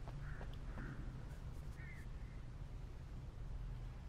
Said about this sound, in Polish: Ptaszki, słychać was.